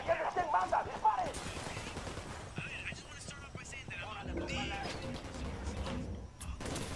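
Gunfire in the video game Ghost Recon Wildlands comes in scattered bursts and single shots, moderately loud, mixed with shouting voices and game sounds.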